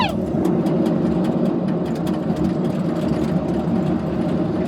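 Fast cars rushing past on a road, a dense, loud traffic roar close at hand with a brief rising whine at the start, then a steady engine rumble.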